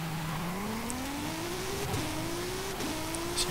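A 1953 Jaguar C-Type engine in Forza Horizon 5 accelerating loudly and steadily, its pitch climbing through a gear with a brief dip at a shift, close and continuous.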